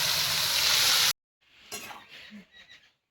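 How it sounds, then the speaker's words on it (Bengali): Cut potatoes fry in hot oil with cumin, dry chilli, cardamom, clove and cinnamon, giving a loud, dense sizzle for about a second before cutting off abruptly, followed by a few faint kitchen clinks. "আলুগুলো একটু ভালো করে ভেজে নেব"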